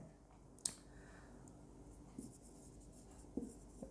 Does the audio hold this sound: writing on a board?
yes